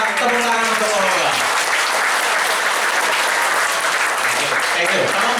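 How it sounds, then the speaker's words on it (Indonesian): A crowd claps enthusiastically in sustained, even applause after a talk, with voices mixed in over the clapping. "sekali lagi terima kasih dan kita tepuk tangan untuk Olga."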